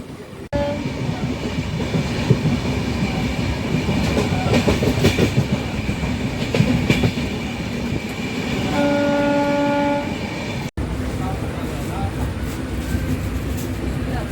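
A Konkan Railway Diva–Ratnagiri passenger train (50103) rolls past with rhythmic clattering, then a long horn blast sounds near the end, loud and close.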